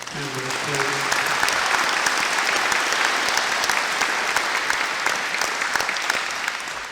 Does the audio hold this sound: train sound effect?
no